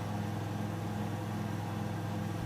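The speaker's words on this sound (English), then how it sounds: "Listen to that hairdryer engine roar." Steady whirring engine drone of an Icon A5 light amphibious aircraft in Microsoft Flight Simulator, a continuous buzzy hum at even level with no talk.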